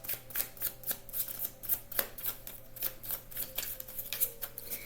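Cards are shuffled in a quick series of crisp riffling bursts, close and fairly quiet, repeating in an uneven rhythm.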